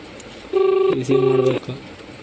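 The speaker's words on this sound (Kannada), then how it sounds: "ರಿಂಗ್ ಆಗ್ತೈತೆ" A telephone rings close by in two steady electronic bursts, each about half a second long, with a short gap between them, over a low background hum.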